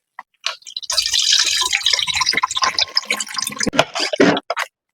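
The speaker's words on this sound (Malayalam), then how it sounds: "ഇതുപോലെ നമുക്ക് സ്പ്രേ ചെയ്ത് കൊടുക്കാം." Hand sprayer misting a water mixture onto young vegetable seedlings in a pot tray, heard as a run of close, hissing spray bursts with dripping in between and no talk.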